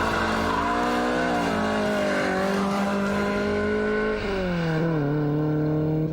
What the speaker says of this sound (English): You can power slide. Third gear wheel spin.